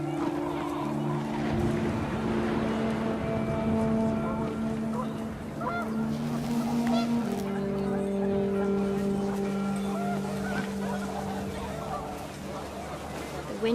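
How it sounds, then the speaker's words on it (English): Panicked geese honk in What Remains of Edith Finch as wind picks up, a run of sustained, overlapping nasal calls at moderate distance over a broad windy background, with a voice speaking alongside. "The wind picked up and panicked geese appeared and quickly went."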